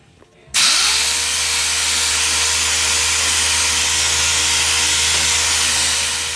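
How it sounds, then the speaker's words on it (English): A power sander with 320 grit sandpaper spins up abruptly and then runs steadily, close and loud, with a constant whirring hum and a broad hiss of abrasive on the surface, alone throughout. "I've gone over all those 180 grit scratches with 320 grit"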